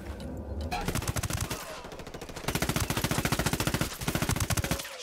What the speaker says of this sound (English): Target acquired. Opening fire.